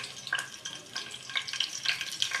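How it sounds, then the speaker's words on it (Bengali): Bitter gourd slices frying in hot oil in a wok, a quiet crackling sizzle with scattered sharp pops throughout, fairly close. "তেলটা গরম হয়ে গেছে, কাল্লা কড়াইটা ভেজে নেবো"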